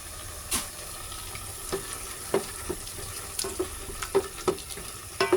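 Chicken mince fries in a pan with tomato sauce, a continuous sizzle broken by frequent sharp spoon-on-pan taps and scrapes from stirring, close and fairly loud, no talking.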